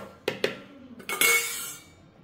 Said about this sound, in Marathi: आता हे मी एका बोलमध्ये काढून घेते